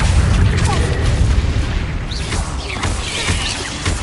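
A dense, rumbling blast from the Confringo spell in Hogwarts Legacy fills the space loudly and continuously, with crackling debris and booming low impacts rolling through the whole stretch.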